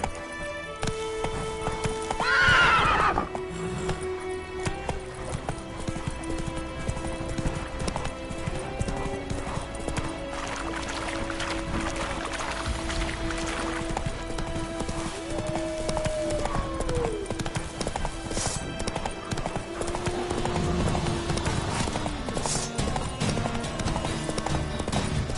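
The horse Roach galloping in The Witcher 3: Wild Hunt, rapid continuous hoofbeats with a brief neigh amid game music and effects, a short spoken line over it.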